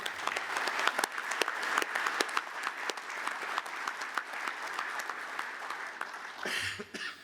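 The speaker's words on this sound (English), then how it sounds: "Let's give the most trustees a round of applause" An audience at a presidential address applauds steadily for several seconds, dense clapping at moderate distance, with a cough or two, tapering off at the end.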